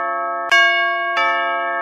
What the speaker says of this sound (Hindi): काहे हमारा घंटी बजा रहा रे?